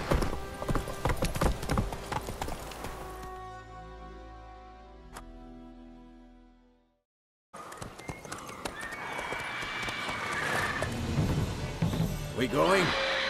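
Roach, a horse in The Witcher 3: Wild Hunt, gallops with rapid rhythmic hoofbeats, close and loud, fading out midway before a brief silence, then more busy game sounds and a voice return.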